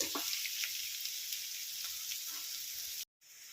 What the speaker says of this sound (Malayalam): വിനാഗിരി ഒഴിച്ച് ഇതുപോലെ തിളച്ച് കഴിഞ്ഞിട്ട്